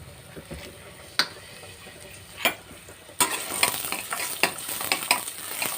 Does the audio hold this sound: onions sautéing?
yes